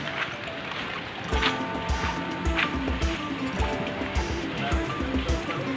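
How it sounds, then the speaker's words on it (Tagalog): Steady rushing water of Taytay Falls in Laguna fills the air in the distance, a continuous broad roar with footsteps and small knocks moving over it. "Ayan, naririnig ko na yung ingay ng tubig."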